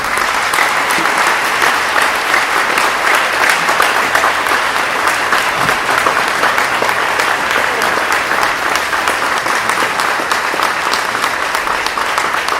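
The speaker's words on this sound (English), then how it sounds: "How about a round of applause for our outstanding panelists?" A loud, steady round of audience applause for a panel at a community conversation on race and policing, dense clapping throughout without a break.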